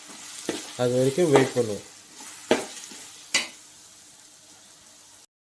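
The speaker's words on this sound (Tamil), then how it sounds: "குழம்புக்கு தேவையான உப்பு சேர்த்துட்டு நல்லா வதக்கி விட்டுறலாம்" Tomatoes with salt are sautéed for an oil brinjal gravy, a faint sizzle with a few sharp scrapes or knocks of the spoon in the pan, following a short spoken remark.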